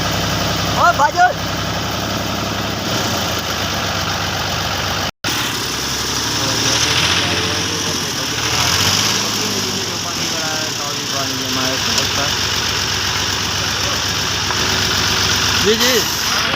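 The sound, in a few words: tractor engine running while ploughing a drainage ditch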